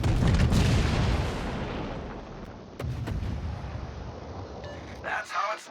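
Heavy naval guns booming from a battleship's rear turrets in World of Warships, a loud opening blast that rolls off into a long rumbling tail, followed by more thuds and distant impacts, with a voice talking over it.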